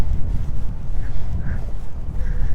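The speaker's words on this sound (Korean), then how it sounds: "시원한 바람이 불어오고" Wind blowing across the summit of Seongsan Ilchulbong on Jeju, a steady low rumbling buffet against the microphone that lasts the whole moment, with no voices over it.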